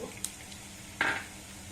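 Mustard seeds go into hot oil with chana dal and urad dal to temper raw mango pulihora. A faint background hiss gives way to a short, sharp burst of crackling sizzle near the middle, and no one speaks.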